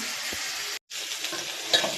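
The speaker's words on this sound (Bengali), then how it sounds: "দেখো সবজিগুলো একটু ভাজা ভাজা করে নিয়েছি" Chopped vegetables sizzle and crackle in a pan as they are stirred for a bottle gourd greens dish. The frying stays close and steady, with one brief silent break partway through.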